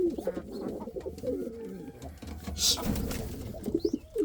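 Several Indian fantail pigeons coo in low, throaty, overlapping burbles close by, with a brief high chirp and faint outdoor noise behind them.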